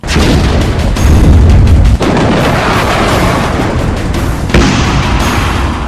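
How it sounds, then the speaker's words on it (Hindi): Relentless heavy explosions and booming blasts pound without pause, loud and dense, with sharp bursts layered over a continuous rumble like a rocket barrage. "रॉकेट की बौछार"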